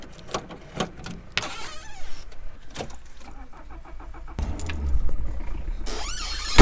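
A Citroën C15 car serving as a support vehicle, with clicks and clunks from doors and handling, then an engine starting and running, fairly close and without speech.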